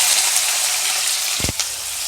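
Chopped tomato, onion and green chilli are frying in hot oil, a steady bright sizzle close by, with a brief low thump and stir about midway as the pieces settle and the crackling carries on.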